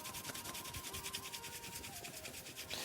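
Hands rub fast over a bare foot, a steady dry rasping swish that pulses in quick regular strokes, close and continuous with no talking.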